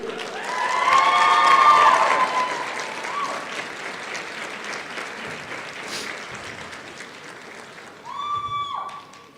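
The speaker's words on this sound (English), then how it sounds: "graduates, it is your time to rise and applaud your family, your friends, your loved ones" Graduates at a college commencement ceremony rise and applaud their families and supporters, a broad, sustained ovation from a large crowd with some cheering that slowly fades.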